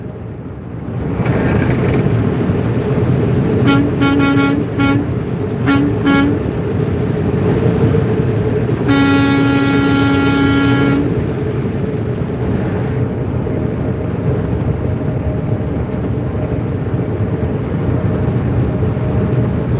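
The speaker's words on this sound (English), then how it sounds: "Honk!" A car horn honks in two short double bursts, then sounds in one longer sustained blast, loud over steady road and engine noise, with no talk.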